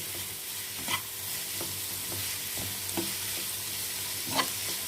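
Onions sauté lightly in a pan for a prawn chilli dish, giving a continuous soft sizzle with a few sharp spatula taps against the pan.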